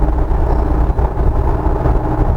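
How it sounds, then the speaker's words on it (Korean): A Jeep Wrangler Rubicon engine accelerates on a commute drive, giving a loud, continuous low rumble heard from inside the vehicle. "가속될 때 이런 특유의 좀 매캐한 엔진 소음이 있습니다."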